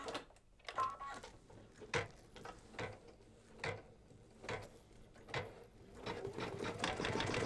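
An embroidery machine stitching out a letter on a mug rug, a close, steady mechanical whirring with rhythmic clicking needle strikes repeating at an even pace.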